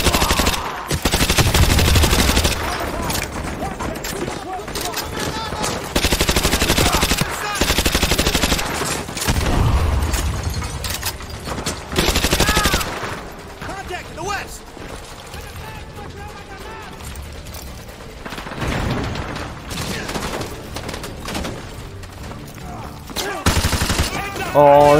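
Machine gun fire in Modern Warfare 2 Remastered comes as loud sustained bursts separated by short pauses, with a player talking over and between the gunfire.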